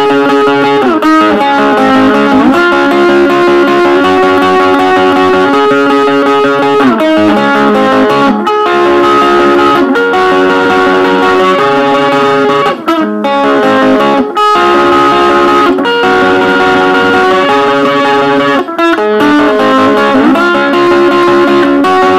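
Electric guitar with heavy distortion plays the chorus at full speed, a loud, dense, continuous strummed chord pattern with steady rhythm and no talking.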